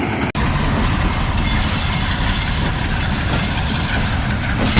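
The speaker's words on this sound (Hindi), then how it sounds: "लो भाई शंटिंग का अमल शुरू हो चुका है।" Mianwali Express shunting at a station platform: a steady, loud diesel locomotive rumble and idling engine drone with faint rail clatter, continuous throughout.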